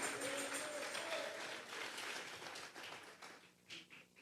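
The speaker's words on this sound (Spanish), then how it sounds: "Vamos a regalarle ofrenda de palmas al Dios de la gloria" A church congregation applauding during a Sunday service, a faint, distant wash of clapping that thins out toward the end.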